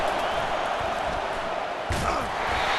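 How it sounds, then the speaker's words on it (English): Stadium crowd at a football game roars steadily to back the defense, a dense, continuous wall of cheering and noise with a brief surge of shouting near the end. "Listen to this crowd just shaking the girders of this place trying to help their defense."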